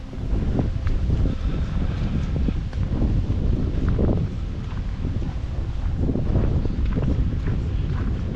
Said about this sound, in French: Par contre on retrouve le vent aussi.